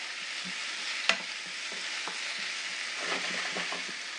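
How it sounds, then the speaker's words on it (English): A salted, peppered breakfast filling for egg rolls is stirred as it fries in oil in a pan: an even hiss with one sharp spatula clank early, then a run of scraping stirs, and no voices. "Give it a stir."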